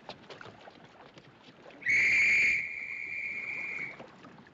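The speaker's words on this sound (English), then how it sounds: "That's an officer's whistle." An officer's whistle aboard the sinking ocean liner on a cold night at sea gives one shrill, sustained blast of about two seconds, loud against a background of crackling murmur.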